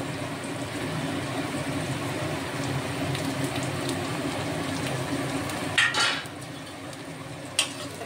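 Onion petals fry in a pan for chili chicken, giving a steady close rain-like sizzle and hiss throughout, with a couple of brief utensil clinks near the end.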